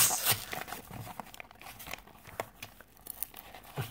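Trading card pack wrappers being torn open, close crinkling and ripping with quick bursts of tearing and rustling foil at low volume.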